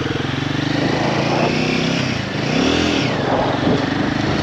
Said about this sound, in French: j'ai fait hurler la moto plusieurs fois, entre la 1 et la 2